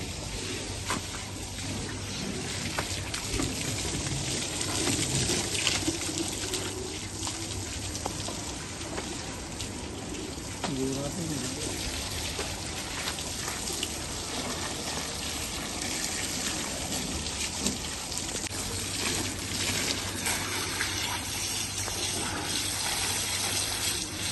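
Water pours steadily onto the glass of a Jeep Rubicon during cleaning, a continuous close gushing and splashing that carries on for the whole stretch.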